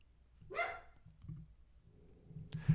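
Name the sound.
dog barking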